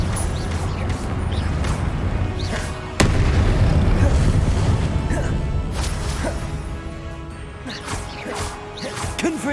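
Fiery Confringo and Incendio spell blasts in Hogwarts Legacy combat rumble and crackle, with a heavy explosive hit after a few seconds and later blasts tapering off into scattered magical bursts.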